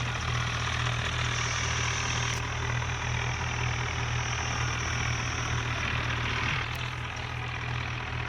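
A tractor engine in a village driving game idles and drones steadily, a low continuous hum with a mid-range rasp as the machine heads into a river, no voices over it.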